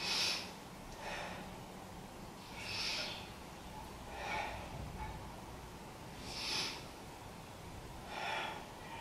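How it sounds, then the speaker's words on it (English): Slow, audible breaths taken while balancing in a yoga bow pose, about five soft, airy, even-paced exhalations close by in a quiet room, with no voices. "3 breaths here"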